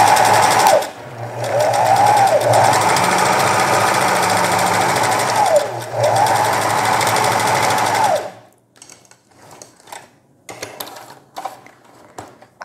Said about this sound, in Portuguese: Agora eu venho aqui para a máquina e vou passar uma costura em volta